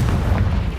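A Confringo fire spell bursts in Hogwarts Legacy, a single heavy, close explosive boom with a rumbling low-end tail lasting under a second.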